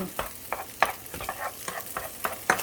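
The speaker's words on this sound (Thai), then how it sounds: "ขัวไข่ยักน้อย" Egg stir-fried in hot oil in a wok for pad thai, with quick spatula scrapes and clanks over a soft continuous sizzle, close and fairly brisk, with no talking.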